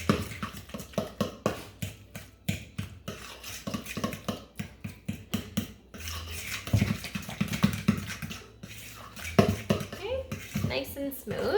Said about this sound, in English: I'm just gonna mix the pumpkin with the sugar, just like that